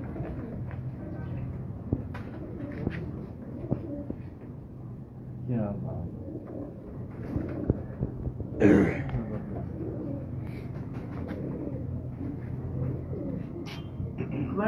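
Rooftop pigeons in Karachi coo softly in repeated low calls beneath frequent conversation, with a throat clear and a brief louder burst midway.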